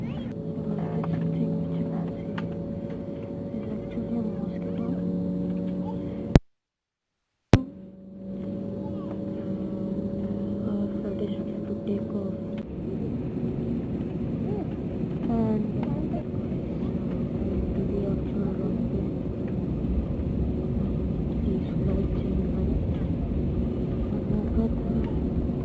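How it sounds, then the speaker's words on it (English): A passenger jet hums and rumbles steadily on the runway before takeoff, heard from inside the cabin as a constant engine drone with tonal whine, a brief cut partway through, then a broader roar building. "We are on the actual runway, and now the flight will take off"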